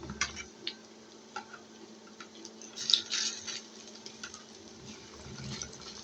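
Crispy fritters (bora, pakora) fry in a pan as they are turned one by one, a soft low sizzle broken by scattered light clicks and scrapes of a utensil.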